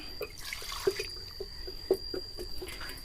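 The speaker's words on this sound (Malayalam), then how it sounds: "ഇനി ഇത് പാകത്തിനുള്ള വെള്ളം കൂടി നമ്മൾ ഒഴിച്ചു കൊടുക്കുന്നുണ്ട് കേട്ടോ" Water from rinsing a mixer jar is poured into a masala cooking over a stove, making a close series of small splashes and drips at an uneven, steady pace.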